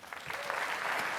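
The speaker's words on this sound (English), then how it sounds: "Give her a round of applause for me." Audience at a startup pitch event breaks into a short burst of applause, quickly swelling to full, even clapping for a brief moment.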